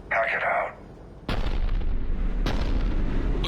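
A Cerberus cannon fires in Mass Effect 3, with two heavy booms about a second apart. Each is followed by a rumbling tail, and a brief voice is heard just before the first blast.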